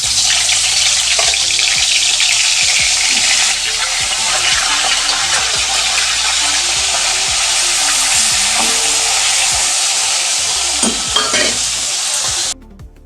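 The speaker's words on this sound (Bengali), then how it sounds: "এবার ইলিশ মাছের মাথাটা আমি ভেজে নেব।" A hilsa fish head fries in hot oil in a wok, giving a loud, continuous close sizzle with scraping and stirring sounds throughout, ending abruptly.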